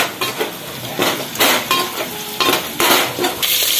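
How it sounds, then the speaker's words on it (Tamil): Onions frying in oil in a pan for sambar, a steady close sizzle broken by stirring scrapes and metal utensil clinks against the pan, with no talk. "இது என்னமா சாம்பார் போட்டுருக்கேன், வெங்காயம் நல்லா ஃப்ரை ஆயிடுச்சு"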